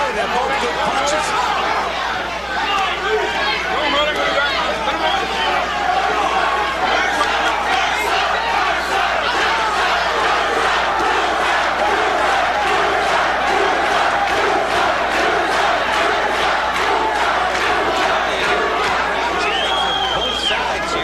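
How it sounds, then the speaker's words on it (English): A dense boxing-arena crowd at the 1990 NABF bout between Mercer and Cooper roars and cheers continuously, a thick wash of voices with rhythmic bursts, heard at a distance behind ringside commentary. "there are some Philly folks out here cheering for Cooper for sure"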